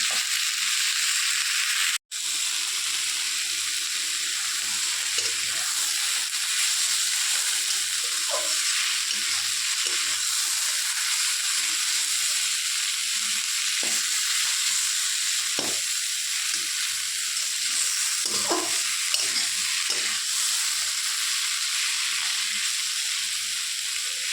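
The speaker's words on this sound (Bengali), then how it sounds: "এবার একটু ভেজে নিয়ে নামিয়ে নিচ্ছি।" Snake gourd pieces, left in chunks rather than finely chopped, fry in a pan with a steady, dense sizzle throughout, broken by a sharp click near the start and occasional soft stirring scrapes, with no talking.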